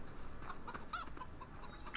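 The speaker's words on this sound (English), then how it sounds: "So, there's our rooster." A rooster in Farming Simulator 15 clucks in a few short, soft calls scattered over steady low ambient farm background noise, with no talking.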